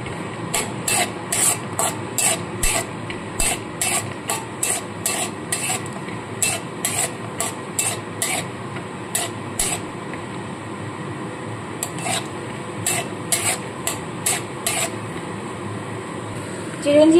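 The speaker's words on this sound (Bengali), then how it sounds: "তো তেলটা গরম হয়ে গেছে, আবার এগুলো দিয়ে দিলাম, দিয়ে এগুলো ভেজে নিচ্ছি।" Cashews and charoli nuts frying in hot oil for mutton korma, a steady sizzle broken by regular bursts of stirring and scraping, with faint background noise throughout.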